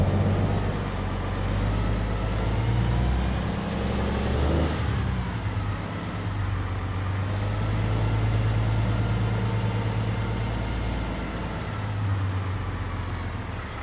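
Truck engine idling in American Truck Simulator, a steady low diesel rumble with slight swells in loudness, close and continuous, with no voices over it.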